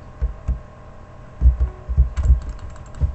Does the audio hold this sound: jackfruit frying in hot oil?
no